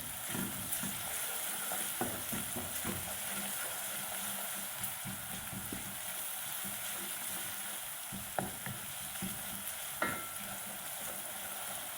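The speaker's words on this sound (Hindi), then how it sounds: "लहसुन भी थोड़ा सा फ्राई हो गया है।" Mixed vegetables with coarsely ground garlic fry in a pan, a steady close sizzle with occasional clinks and scrapes of stirring, fairly quiet and without talk.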